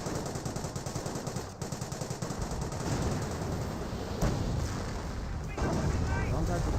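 Dense, nonstop machine-gun and rifle fire from a Company of Heroes 1 battle, rattling rapidly at high volume with heavy thuds mixed in, while a commentator talks over it.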